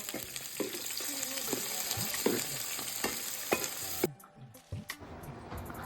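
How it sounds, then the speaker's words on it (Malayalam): Small shallots sauté in a pan on a wood-fired stove, a bright steady sizzle broken by regular spoon scrapes, then the frying drops away abruptly, leaving a few softer knocks. "ചെറിയ ഉള്ളിയൊക്കെ നന്നായിട്ട് വഴണ്ട് വരുന്നുണ്ട്, നല്ല കളർ മാറി വരുന്നുണ്ട്"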